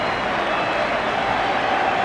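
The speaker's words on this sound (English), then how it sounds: "Applause being offered by the First Division giants to the Woking players" Applause from Everton players for the Woking side at an FA Cup fourth round match, 1990/91, a steady wash of clapping blended with crowd noise, continuous and fairly loud throughout.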